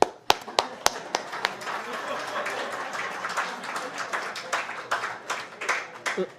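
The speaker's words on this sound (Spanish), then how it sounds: "vamos a darle un aplauso a mi hijo" A church congregation applauds together in a steady, moderately loud wash of clapping lasting several seconds, with a few sharp individual claps near the start and faint voices mixed in.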